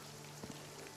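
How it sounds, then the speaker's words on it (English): Rain falling in the video game Runescape Dragonwilds, a faint steady patter and hiss of drops with a low hum beneath, no talk. "And it's raining."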